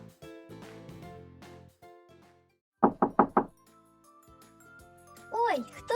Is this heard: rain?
no